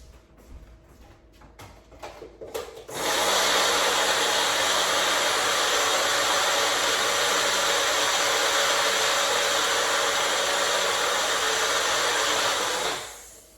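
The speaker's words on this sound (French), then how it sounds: "Je vais juste passer au Magic Bullet vraiment rapidement." A Magic Bullet blender whirs loudly and steadily for about ten seconds while mixing protein crêpe batter, starting abruptly after a few clicks and cutting off at the end.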